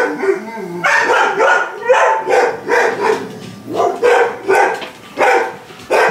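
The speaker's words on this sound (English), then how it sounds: "Dogs are all barking." Several dogs bark loudly and close by in a steady, repeated run of barks and yips, with a few whimpers mixed in.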